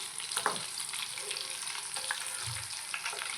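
Fish fingers frying in oil, a constant quiet close sizzle with a few faint knocks and scrapes, no talking.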